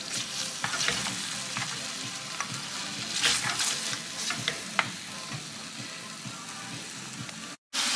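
Chicken pieces for low-carb keto kung pao chicken fry in a pan over medium-high heat, giving a steady close sizzle with scattered crackles and occasional stirring scrapes, then a brief drop to silence near the end.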